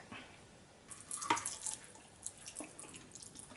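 Water from a kitchen tap splashes and drips into a sink during cleaning, faint and intermittent with a few brighter splashes near the start, no voices.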